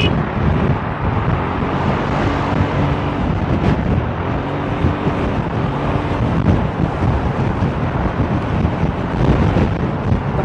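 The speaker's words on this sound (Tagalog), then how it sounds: "tinatangay ako ng hangin ng puta" Strong wind roars steadily against the microphone while riding a Kymco Xciting 400 scooter on an expressway, a dense continuous rush mixed with engine and road noise throughout, loud and unbroken.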